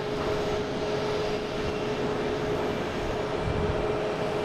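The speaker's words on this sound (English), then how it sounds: "next coming in is American Airlines coming in from Charlotte." An American Airlines Boeing 737-800, flight 1552 from Charlotte, arrives at Boston Logan with a steady, loud, broadband jet roar that holds evenly throughout, with no talking.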